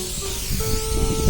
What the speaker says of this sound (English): using this industrial traffic road line marking spray paint we bought